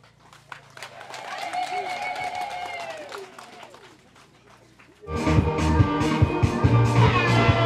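Applause at a primary school graduation ceremony in Msisi, Singida, as the graduating pupils leave. A voice talks over a murmuring crowd at first, then loud, dense clapping breaks out and continues steadily to the end.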